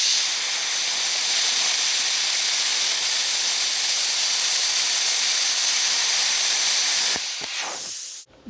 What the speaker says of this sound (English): We're gonna burn a hole right through the steel